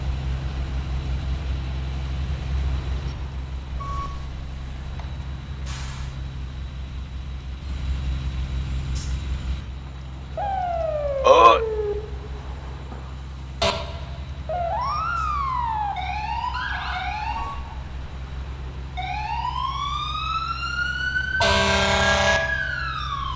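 Ferrara fire engine in the EmergeNYC video game sounding its siren: rising and falling electronic wails and yelps sweep repeatedly over a steady low engine rumble, loud and close, with a short air-horn-like blast near the end.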